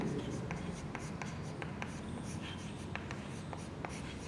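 Pen or marker writing physics notes on a board during a lecture, making short, regular scratchy strokes over a steady room hum, with nobody speaking.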